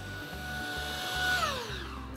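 A Vax Blade 2 Max cordless stick vacuum cleaner runs steadily with a loud whirring motor, its pitch shifting slightly as it is maneuvered around furniture and chair legs.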